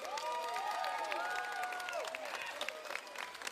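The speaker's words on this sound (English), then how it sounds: "Big hit, loud round of applause, folks." Loud, steady applause and cheering from a festival crowd at an outdoor entertainment stage, sustained throughout with scattered whistles.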